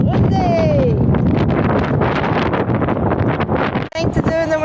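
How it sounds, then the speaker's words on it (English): Heavy wind buffets the microphone in a loud, constant rumbling roar, with a voice talking underneath, while riding a Brompton folding bike in New York. "It's windy."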